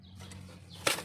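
Grizzle pigeons in a new loft give a brief burst of wing flapping near the end, over a low steady hum with faint background noise.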